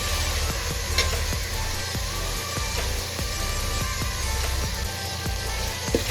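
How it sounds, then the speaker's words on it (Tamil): Onions sizzling steadily in a hot pan for chicken Chettinad, a close, continuous frying hiss broken by regular scraping clicks of stirring. "இப்போ வெங்காயம் வெதுக்கினே இருக்குது."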